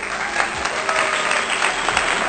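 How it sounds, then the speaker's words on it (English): Canned applause sound effect, a steady wash of clapping and light crowd noise lasting about two seconds, inserted during a plush toy collection showcase. "let's give him a little round of applause."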